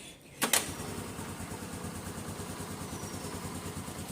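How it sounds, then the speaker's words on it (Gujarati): A Honda Activa scooter, cold and refusing to self-start, is kick-started with a sharp mechanical clack, and the engine catches into a steady, fairly quiet idle that putters on close by. "કિક મારવી પડે। સેલ્ફ સ્ટાર્ટથી ચાલુ નહીં થતું, એટલે ઠંડી પડી ગઈ છે એક્ટિવા"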